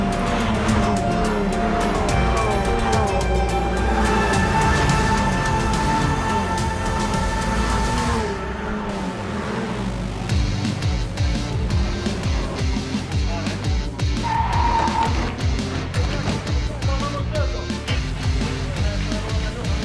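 Fun Cup race cars at the 25 Hours of Spa endurance race, engines roaring loudly and continuously with passing cars, a brief tire squeal and busy trackside ambience throughout.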